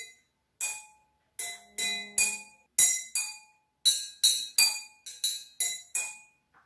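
Two matching wine glasses struck as a homemade instrument ring out in a series of clear, bright clinks. They come singly and in quick pairs, each tone decaying briefly, with no talking.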